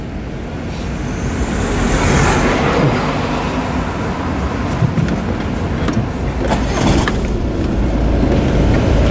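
A car pulls away and drives on during a driving lesson, with a steady engine and road rumble that holds at a constant level throughout, broken by a few faint higher clicks and rattles.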